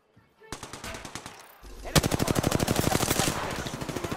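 Rapid automatic gunfire in a multiplayer shooter video game, starting after a quiet moment and swelling into a loud, steady burst of evenly spaced shots.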